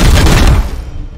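Gunfire in the video game Warhammer 40k: Chaos Gate - Daemonhunters bursts out as a loud, close volley of booming shots that quickly decays into a rumbling tail.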